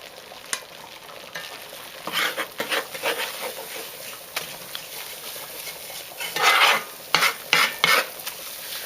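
Dark brown roux of flour and oil sizzles in a pot for gumbo while a spoon stirs it, a soft continuous frying hiss with scattered scraping strokes that grow louder and quicker toward the end.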